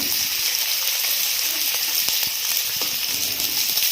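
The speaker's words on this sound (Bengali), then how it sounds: "পেঁয়াজটা ভাজা একটুকু" Onion fries in oil in a pan, a steady sizzle and crackle, a constant bright hiss with occasional pops and no voices.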